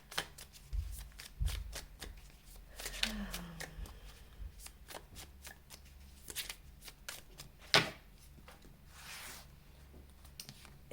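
Oracle cards being shuffled by hand, a close, soft riffling and sliding of card stock in repeated bursts, with occasional light taps and faint background noise.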